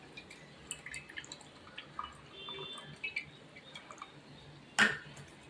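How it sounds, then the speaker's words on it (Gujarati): Tamarind pulp is wrung out by hand in a kitchen, giving soft wet squelches and a scatter of faint, close drips of water, ending with one sharper splash. "આવી રીતે બરોબર નીચોવીને આંબલીને એનો કસ બધો કાઢી લેવાનો આપણે."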